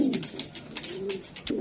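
A young pigeon coos softly and continuously at close range, a low throaty rolling murmur with faint repeated pulses, alone without speech.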